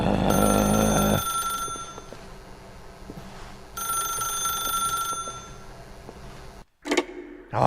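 A telephone rings in The Stanley Parable video game, bright repeated electronic bursts with pauses between them, loud and close, the ringing cutting off abruptly near the end.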